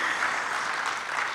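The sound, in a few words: congregation applauding in church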